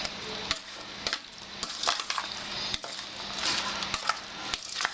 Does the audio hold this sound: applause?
no